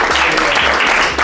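Seated attendees at a real estate business talk break into loud, close applause, a thick burst of many clapping hands sustained through the short moment.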